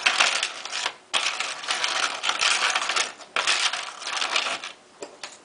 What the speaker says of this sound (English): Once this is mixed together, mix with a spoon.